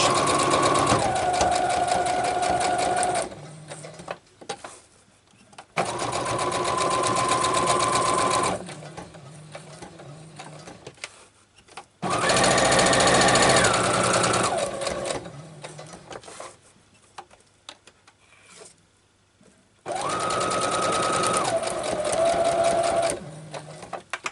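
Sewing machine stitching fabric clusters, rapid mechanical whirring in several long bursts separated by pauses filled with quiet clicks and handling sounds, close and clear.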